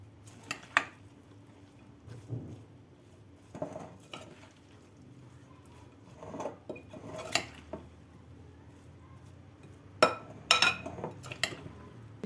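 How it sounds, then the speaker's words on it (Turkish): Beetroot salad tossed in a bowl, giving scattered soft clinks and scraping of utensils against the dish in irregular bursts, fairly quiet and close, with no talking. "Şöyle iyice karıştıralım."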